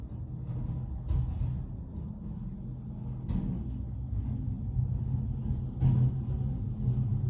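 Low, steady rumble of a truck passing outside on a winter road, heavy and muffled, swelling gently and fading across the stretch with no talk over it.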